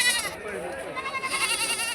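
Goats bleat at the Panditapuram livestock market in short, wavering calls, mixed in with nearby voices talking.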